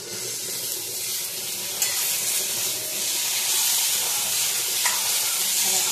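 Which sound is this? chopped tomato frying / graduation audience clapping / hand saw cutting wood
chopped tomato frying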